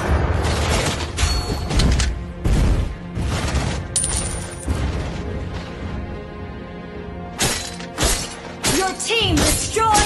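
Mobile Legends battle effects crash and shatter as a turret is destroyed, with a rapid series of loud booming impacts, glassy smashes and bright chimes in separate bursts over about ten seconds.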